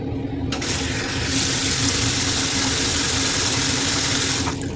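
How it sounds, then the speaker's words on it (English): Tap water runs steadily into a bathroom sink, a constant broadband rush with some splashing while a face is wetted, close and continuous for several seconds with no talk. "All right, so I'm gonna get my face wet."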